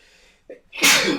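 A single sharp sneeze bursts out near the end after a brief inhale, close and fairly loud during a tabletop Star Wars role-playing session.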